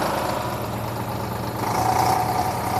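A John Deere 5050D tractor engine runs at a steady 1500 rpm, a continuous close diesel drone with an even low throb and a slight swell near the end, no voices.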